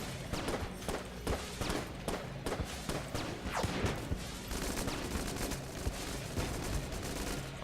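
Rapid, repeated gunfire from the video game Enter the Gungeon, a busy stream of shots and thumps at moderate level with no clear talk.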